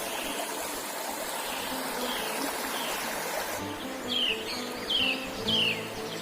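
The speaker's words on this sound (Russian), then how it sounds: "тихо только птицы поют, и родник шумит." A spring babbles with a constant watery rush while birds sing nearby, three clear chirping calls rising above the flow toward the end.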